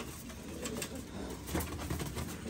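Prize-winning racing pigeons cooing in a loft, several soft overlapping coos repeating against a faint steady background.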